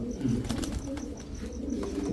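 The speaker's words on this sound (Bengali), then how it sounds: "ছয় পিস কবুতর ছয় পিস রেসার কবুতর" Racer pigeons coo softly and repeatedly in a steady, murmuring rhythm, close by, with faint rustling and no talking.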